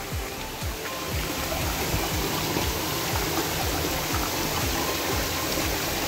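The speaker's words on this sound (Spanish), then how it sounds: "Increíble esta cascada, súper bonita." The waterfall at Finca El Barretal near Pacaya volcano roars with a dense, constant rush of falling water, loud and close, with no voices.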